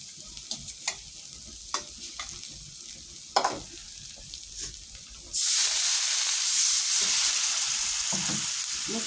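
Spice paste for a gourd and fish curry is stirred in a pan with a few scraping strokes, then a loud, steady sizzle of frying takes over and holds to the end.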